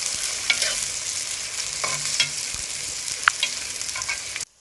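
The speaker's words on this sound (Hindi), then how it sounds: "ऑयल हमारा गर्म हो चुका है तो अब हम इसके अंदर प्याज ऐड करेंगे।" Onions hit hot oil in a kadhai and fry with a bright, continuous sizzle. A few scraping stirs break through before the sound cuts off abruptly near the end.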